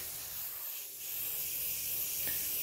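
An aerosol spray paint can sprays onto fishing net stockings with a steady, close hiss. The hiss holds for a few seconds with slight swells, and no voices are heard.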